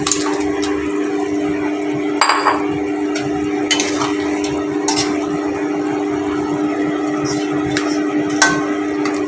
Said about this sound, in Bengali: ঝোলটা ভালো মতন ফুটে যাচ্ছে। এবার এক এক করে মাছগুলো ছেড়ে দিলাম।